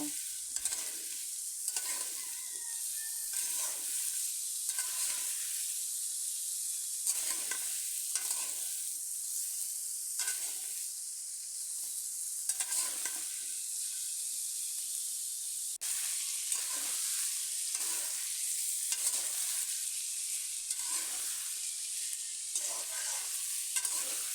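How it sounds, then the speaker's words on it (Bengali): Potato and cauliflower pieces fry in hot oil with a constant bright sizzle, while a spatula stirs them in repeated scraping strokes against the pan, close and steady throughout. "এবার তেলের সাথে ভালো করে আলু ফুলকপিগুলো মিশিয়ে নেব এভাবে আমি পাঁচ মিনিট ভেজে নেব"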